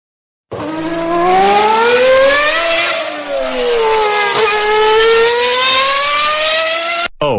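A fast car races past in a video game roadshow event, its engine note rising then sliding in pitch as it passes close, loud and continuous for several seconds before cutting off abruptly.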